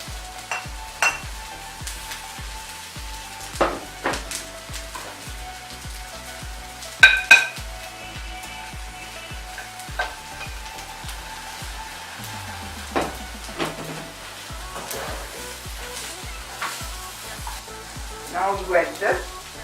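Dried fish fries with onions, green chilies and curry leaves in hot oil, giving a steady sizzle broken by scattered spoon scrapes and clinks, with louder clatter near the middle and end and no talk.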